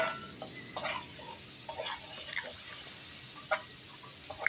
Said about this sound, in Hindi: अच्छी तरह इसको भुनाई करेंगे 3 से 4 मिनट तक